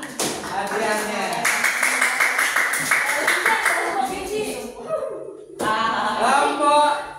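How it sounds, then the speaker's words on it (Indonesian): A classroom of students claps rhythmically together for a group, steady hand claps ringing out for several seconds, pausing briefly and then resuming, with children's voices mixed in. "Tepuk tangan untuk kelompok 2"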